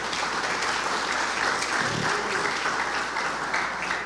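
A church congregation claps in praise during a sermon, a continuous wash of many hands at a steady, full level with no pause.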